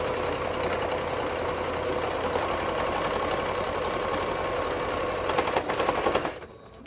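A serger sews binding onto a mauve and cheetah print toddler hoodie, a steady, rapid whirring stitch that runs on evenly before stopping near the end.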